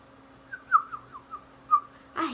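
Several short whistled bird calls rise and fall at a steady pitch, followed by a brief burst of noise at the end. The calls are clear and fairly quiet, with nothing else heard around them.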